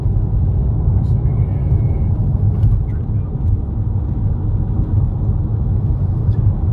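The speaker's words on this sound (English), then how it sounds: "we're just testing this truck, this car for road noise" A BMW X3 rides on Atlas run-flat tyres, giving a steady, loud low tyre roar and rumble from inside the cabin that holds constant throughout, with a voice faintly present over it.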